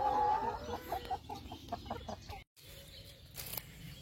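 Laying hens on a small farm cluck in short repeated bursts, close and moderately loud, with a brief gap of silence partway through.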